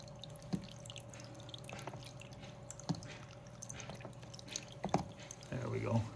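Water sloshes and drips while gold paydirt is washed down in a pan, with soft splashes and trickles scattered through the clip and a fuller swirl of water near the end, under a quiet background hum.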